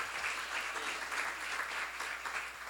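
A church congregation applauds in a steady wash of clapping, fairly faint and distant, with no voices rising above it.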